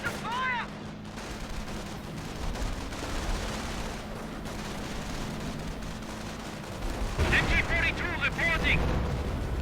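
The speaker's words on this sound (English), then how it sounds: "another artillery barrage getting hit there" An artillery barrage rumbles through a Company of Heroes battle, low heavy booms and crackling blasts rolling over a continuous war-zone din, with a commentator talking quietly underneath.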